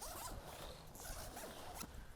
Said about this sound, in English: this is inside and we go ahead and zip this back up